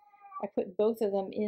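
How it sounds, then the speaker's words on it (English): A cat wails with a drawn-out meow at the start, then keeps crying faintly in the background while someone speaks close over it. "that is my cat wailing in the background"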